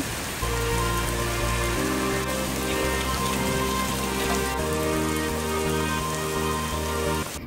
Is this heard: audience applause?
no